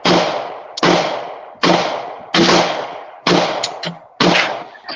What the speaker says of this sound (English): I'm opening my door so everybody can hear our fireworks going off.